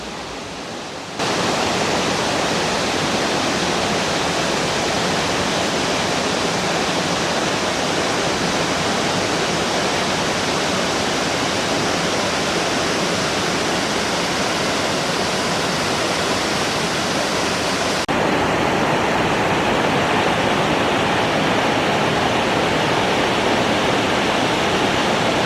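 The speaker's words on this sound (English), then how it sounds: "We have arrived at Patakian Waterfall, and it is magnificent." A Pang Sida National Park waterfall in Thailand roars at full rainy-season flow: a close, dense, unbroken wash of water that sets in after a quiet first second and grows slightly brighter near the end.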